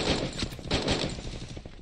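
Rapid bursts of video game gunfire crackle in a dense, continuous barrage, loud and close, with no talking.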